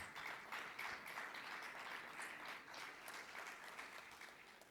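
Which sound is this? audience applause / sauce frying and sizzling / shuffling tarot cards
audience applause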